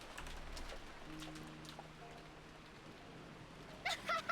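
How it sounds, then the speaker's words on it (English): Steady rain falls at an empty rural bus stop in a village setting, a faint continuous hiss with soft cooing birds and a few brief chirps near the end. "2 young students, Mion and Rika, approach the empty Hinamizawa bus stop with only the sound of rain to be heard."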